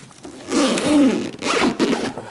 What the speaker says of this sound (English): it will successfully zipper shut